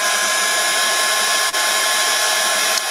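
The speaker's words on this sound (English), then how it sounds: "we're going to give our bunny a good blast dry" A hair dryer blowing steadily and loudly at close range while drying a painted Easter bunny decoration, a constant rushing whir with one brief dip partway through.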